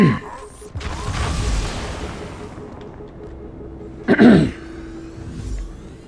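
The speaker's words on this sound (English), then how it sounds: "like clearing my throat like a boomer." A person clears their throat, a rough rasp followed by a short gruff burst a few seconds later, close to the mic.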